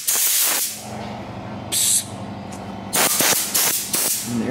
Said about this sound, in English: And the air compressor comes on.